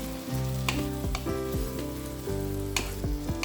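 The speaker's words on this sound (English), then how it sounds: "Fry ginger till the raw flavor goes away." Ginger paste fries in a pan after browned onions, with a steady sizzle and soft crackles, while intermittent scraping and clinks of stirring sound up close and no one speaks.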